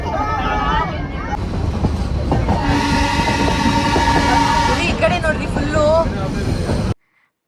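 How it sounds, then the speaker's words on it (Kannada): The Ooty toy train runs near Coonoor with a loud, steady rumble of wheels on rails and a sustained whistle-like tone in the middle, passing close before cutting off abruptly; a voice talks over it. "ಅದ್ರ ಮಧ್ಯ ಟ್ರೈನ್ ಹೋಗ್ತಾ ಇರ್ಬೇಕಾದ್ರೆ ಆ ಟ್ರೈನ್ ಸೌಂಡಿಗೂ ತಣ್ಣಗೆ ಬೀಸ್ತಿರೋ ಗಾಳಿಗಂತೂ"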